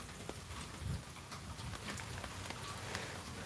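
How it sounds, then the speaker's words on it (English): Rain falling outdoors, a steady quiet patter on surfaces with scattered sharper drops and a few low thumps close by, with no voices. "It's raining out here."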